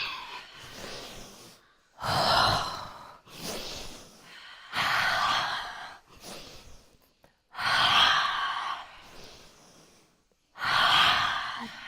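Loud, forceful breathy exhales from a yoga breathing exercise, about five strong bursts with quieter inhales between them, close and rhythmic with no talk.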